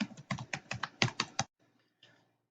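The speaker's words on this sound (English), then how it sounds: "So I'm going to type mine in" Username and password typed on a computer keyboard: a quick burst of about a dozen crisp keystrokes, close and distinct, then a pause and a couple of softer taps.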